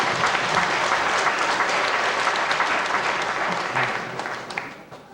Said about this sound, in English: Judges, big round of applause for Sandra.